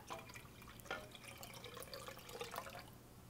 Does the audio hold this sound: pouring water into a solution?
yes